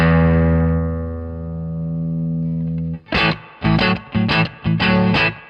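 An amplified electric guitar lets a chord ring out and fade, then strikes a few short chords with a light, gritty edge.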